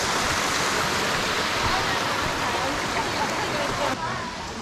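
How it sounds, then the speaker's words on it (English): Sycamore Canyon Falls pouring into its pool, a loud, continuous broadband roar of falling water heard up close that drops slightly in level near the end. "that's the last look at the waterfall before it's time to go"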